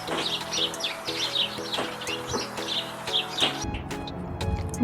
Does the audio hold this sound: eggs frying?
no